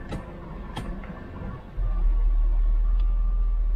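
A 1995 Mercedes SL500 V8 idles steadily at close range, its low rumble stepping up slightly partway through and then holding even, with a couple of faint clicks early on and no talking.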